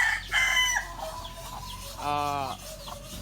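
A super sweater gamefowl rooster, a breeding bird, gives a couple of close, loud clucking calls followed by a short harmonic crow-like burst, with nothing else around it.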